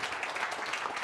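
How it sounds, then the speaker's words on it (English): Applause from a meeting audience, a brief patter of clapping that is moderately quiet and fairly steady. "Everyone, a round of applause."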